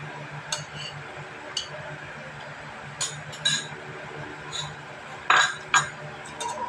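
A balut egg's shell cracks in a series of small, sharp clicks and taps scattered over several seconds, close to the microphone, over a low background hum.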